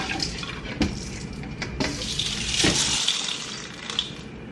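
Water runs and splashes steadily while driftwood soaks for a tropical planted fish tank, a broad continuous rush with a few sharper splashes and knocks, moderately close and with no talking.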